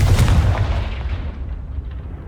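A Confringo fire spell explodes in the Hogwarts Legacy video game: one loud, booming blast with a sharp onset that rumbles and slowly fades over about two seconds.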